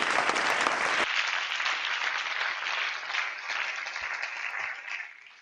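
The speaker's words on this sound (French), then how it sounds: "On peut acclamer pour le Seigneur" A church congregation applauding the Lord at a ministers' conference in Pointe-Noire: steady, dense clapping from a sizeable crowd, loud at first then gradually thinning and fading out, with no clear talk over it.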